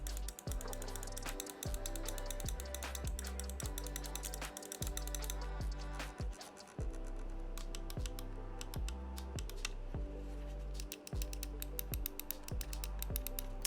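Button clicks on a SteelSeries Aerox 3 Wireless mouse, tapped in a quick, fairly regular series. The crisp, close clicks continue steadily with no talking.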